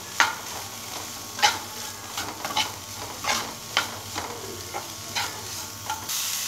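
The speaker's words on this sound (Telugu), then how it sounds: "ఫ్రెండ్స్ చూడండి ఇదైతే బాగా వేగింది" Brinjal curry fries in a pan and is stirred now and then. A steady sizzle runs throughout, broken by repeated clinks and scrapes of a spatula, close and fairly loud, with no talking.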